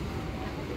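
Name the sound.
MEMU local express train running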